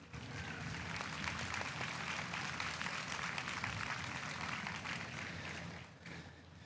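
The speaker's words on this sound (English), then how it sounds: "Let's give this last round of exhibitors a round of applause" Faint, steady crowd applause for exhibitors at a market broiler sale, a sustained wash of distant clapping that continues evenly and fades a little near the end.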